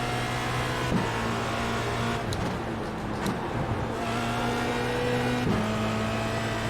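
A Formula Renault 2.0 race car in iRacing accelerates hard, its engine note climbing in repeated rising sweeps with brief drops at gear changes, loud and continuous throughout.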